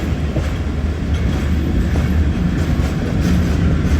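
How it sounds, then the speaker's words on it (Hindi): The Awam Express passenger train passes Shahdara Bagh junction, a steady close rumble of rolling wagons with faint rhythmic clatter of wheels over rail joints and no voices. "तो पास हो रही है जी हमारी ट्रेन शादराबाग जंक्शन से।"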